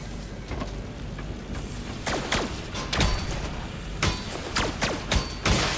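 Auto cannon fire in the video game Fallback: a run of sharp percussive bursts over a dense, noisy battle backdrop, with heavier blasts clustering toward the end, loud and close.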